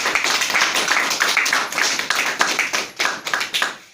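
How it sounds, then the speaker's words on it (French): Audience at a political meeting in Brussels claps steadily for about four seconds, a dense, close, moderately loud patter of hands with no voices over it. "Des applaudissements également pour l'invitation."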